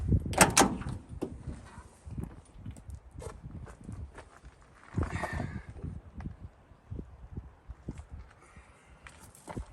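Doors of a 1970 Ford F-250 pickup being handled: a sharp, close latch clunk near the start, another solid thump around the midpoint, and lighter rattles and shuffling movement scattered between.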